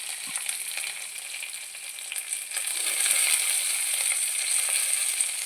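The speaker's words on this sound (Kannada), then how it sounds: "ಒಳ್ಳೆ ಫ್ರೈ ಆಗಲಿ" Garlic, curry leaves and green chillies sizzle steadily in a pan for a cucumber palya, a close, continuous hiss that swells slightly louder partway through, with no talking.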